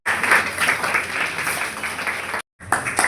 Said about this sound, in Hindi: एक जोरदार तालियां बजाते हैं